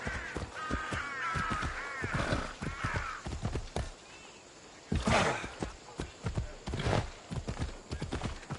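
Horse hooves clattering in quick rhythmic clip-clop, fairly close, with crow-like cawing calls early on and bursts of loud impact noise midway.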